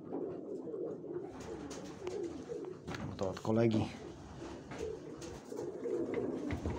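Pigeons in a garage loft give soft cooing calls beneath a man's close speech, with one louder, throaty burst standing out midway.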